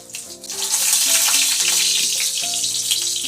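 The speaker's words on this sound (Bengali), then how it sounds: "এবার সয়াবিনগুলো ভাজবো। তেল দিলাম, 5 ফোড়ন আর তেজপাতা দিলাম।" Soybean chunks frying in hot oil with panch phoron and bay leaf, a loud close hiss and crackle that swells quickly and holds steady, with faint background music underneath.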